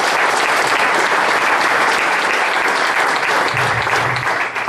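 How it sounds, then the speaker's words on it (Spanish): An assembly of football club members gives sustained, loud applause in tribute, a dense, continuous roar of clapping from many hands, with a brief murmur of voices near the end. "Pido un fuerte aplauso para él."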